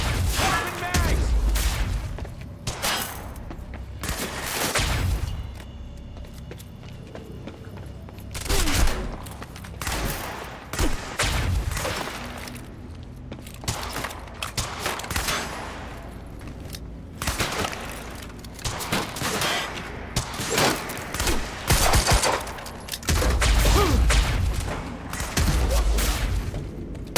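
Gunfire from the video game Quantum Break comes in repeated loud bursts and volleys of shots across the whole stretch, with booms and mechanical clatter between them. Shouted voices break in now and then.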